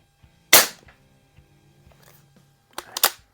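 Sharp, dry shots from an AR2078 CO2 air rifle with an adjusted light trigger, one loud crack early followed later by two quicker pops, with small clicks of handling in between and no talk.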